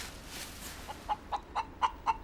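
Hens clucking nearby, a run of short, evenly spaced clucks that grows more regular toward the end over faint background hiss, no voices.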